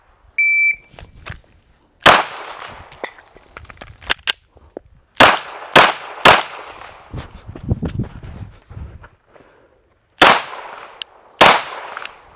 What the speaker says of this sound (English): I'm going to run back to 10 yards and I'm going to shoot until I hit a bullseye.